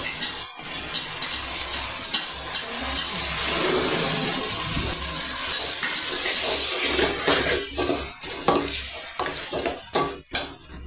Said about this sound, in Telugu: అల్లం మసాలా బాగా నూనె తెల్లేంత వరకు వేగాలి